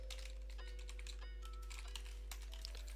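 Rapid keystrokes on a computer keyboard as a command is typed, a steady close-up clatter of soft clicks running throughout with no voices over it.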